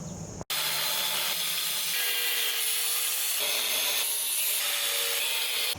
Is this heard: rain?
no